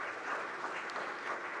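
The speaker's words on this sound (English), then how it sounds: "So I just want to ask for a round of applause" Faint, steady applause from a festival audience at a games industry awards event, a soft continuous patter of clapping heard from a distance.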